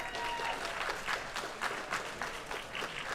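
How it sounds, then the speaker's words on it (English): Audience applause for the top three junior 93 kg deadlift medalists at a world classic powerlifting championship, steady dense clapping from a crowd filling the hall, sustained and fairly loud throughout. "Give them all a big round of applause."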